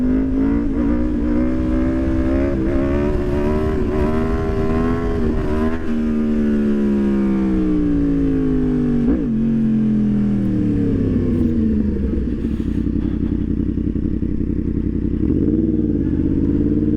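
A Yamaha MT10 motorcycle in first gear revving hard, its engine note climbing and dipping in repeated sweeps, loud and close, with a brief drop as the clutch is dipped.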